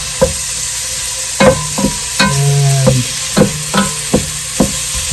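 A utensil breaks up onions in a pan for a tomato-based Navy red SOS, making a series of sharp knocks and scrapes against the pan, with one drawn-out squeak and a faint sizzle between hits.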